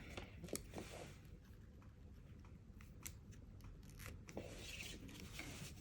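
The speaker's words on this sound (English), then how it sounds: "these here are a little bit too long, so I want to trim those off" Scissors trimming overly long craft pieces, faint close snips and light rubbing sounds scattered over a quiet background, no talking.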